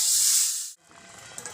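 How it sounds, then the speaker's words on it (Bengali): Potatoes frying in a pan in a village kitchen: a loud, bright hiss of hot oil sizzles briefly, then cuts off abruptly, leaving faint quiet crackling and a couple of small pops. "এই আলুগুলো এবার ভালো করে কষে নেবে"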